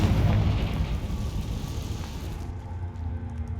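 A Confringo fire spell explodes in Hogwarts Legacy with a loud, rumbling blast. It fades into crackling debris and ambient noise over a few seconds.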